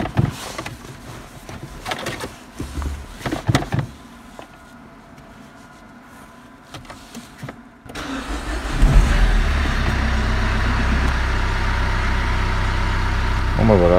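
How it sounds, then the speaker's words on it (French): A Renault Mégane 2 engine starting after its starter motor was replaced: clicks and clunks, then the engine cranks and catches at about eight seconds and settles into a steady, close idle. "normalement le véhicule devrait démarrer"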